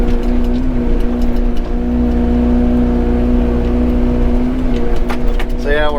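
Tracked excavator idling and working while raking over freshly cleared ground in heavy brush, a steady low engine drone with faint scraping, then a brief voice near the end.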